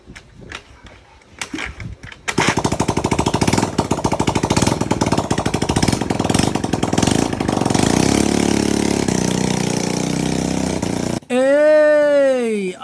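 A motorcycle restored from a junkshop is run on test: a few sputtering starts, then the engine catches into a loud, fast, rattling idle that keeps pulsing close by.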